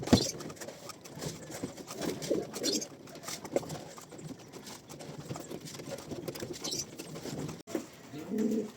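Pigeons coo softly and repeatedly at a pigeon show in Bacoor, Cavite, Philippines, amid a busy outdoor ambience with scattered flapping and shuffling, no talking.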